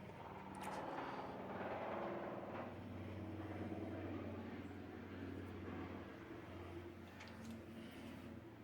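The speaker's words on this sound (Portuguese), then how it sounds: "Helicóptero passando." A helicopter passing overhead gives a steady, broad rumbling drone that holds for several seconds and slowly fades, moderately loud and with no voices.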